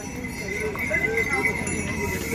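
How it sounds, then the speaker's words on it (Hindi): Horse hooves on the Kedarnath pilgrimage trail give a light clip-clop amid a busy outdoor bustle, with voices talking and chatter close by. "घोड़ा"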